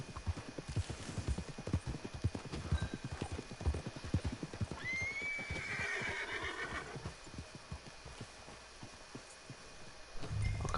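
Hooves clip-clop in a quick galloping rhythm, and a horse whinnies loudly partway through, with a synthetic, game-like quality, from Red Dead Redemption 2.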